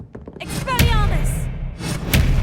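The Confringo spell cast in the video game Hogwarts Legacy: a loud, close thudding burst with a brief vocal cry, followed by whooshing, crackling blasts.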